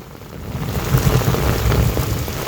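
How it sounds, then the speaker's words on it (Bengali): Rain pours during a storm over knee-deep floodwater where people fish, a steady hiss with a low thunder-like rumble rising through it, no talking. "বিদ্যুৎ চমকাচ্ছে"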